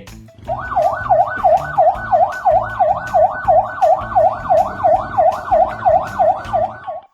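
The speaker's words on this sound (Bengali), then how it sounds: "এই পাকিস্তানি ব্যক্তি পুলিশের গাড়ির সাইরেন শুনে ডান্স করা শুরু করে দিয়েছে" Police car siren wailing in fast, regular up-and-down sweeps, loud and close, with a low engine rumble beneath and no speech.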